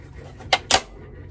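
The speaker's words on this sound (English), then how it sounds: "now we're gonna go ahead and remove this back cover. There's just a series of clips" Two sharp plastic snaps close together as clips on the back cover of an LG washer pop free, crisp and near, with quiet room tone around them.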